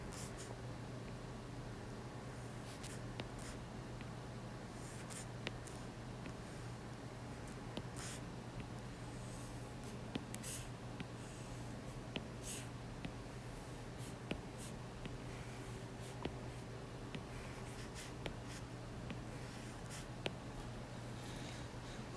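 Pen sketching on paper while working a competition-system math example: steady, close scratching strokes with small taps, continuing for over twenty seconds with no talking.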